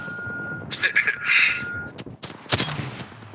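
Gunfire in the battle-royale shooter Apex Legends: a short burst of rapid game shots mixed with electronic tones and later sharp cracks, heard under a player's talk.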